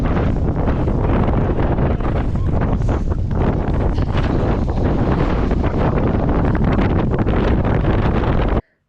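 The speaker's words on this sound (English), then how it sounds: "It was a headwind of ridiculous magnitude and crosswind" Strong headwind and crosswind buffeting the microphone on a beach during a muddy gravel bike race, a loud continuous roaring rumble that cuts off abruptly at the end.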